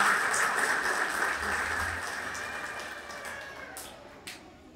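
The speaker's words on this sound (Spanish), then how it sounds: "Así es que se siente el aplauso." A festival audience at a candidate presentation for the Naranjal patronal festivities claps in a dense, steady burst that slowly fades over a few seconds.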